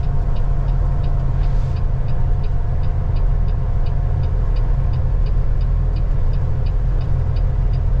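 An old truck's engine runs at a steady idle-to-cruise drone on McGilvery Boulevard in Winnipeg, exhaust rumbling low and constant through the pipes, with a faint regular ticking above and no voices.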